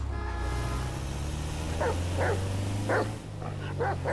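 Several short dog barks from Grand Theft Auto 5 gameplay come in a loose sequence at moderate distance, set over a steady low hum of street and engine ambience.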